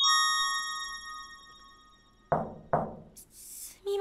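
Knocking on a door in the horror game Corpse Party Blood Drive, two loud sharp knocks after a fading chime tone, followed by a brief rustle and another hard hit.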